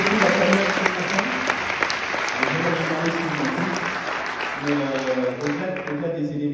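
Audience at a mayor's New Year wishes ceremony in Questembert clapping in sustained, dense applause, with a voice speaking over it throughout.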